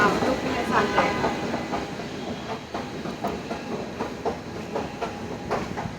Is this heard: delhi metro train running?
yes